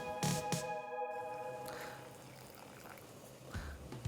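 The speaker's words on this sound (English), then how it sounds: "while I pour my brine" Hot brine is poured into jars of cherry tomatoes, a steady soft liquid pour running behind a few clinks of glass and a faint background hum.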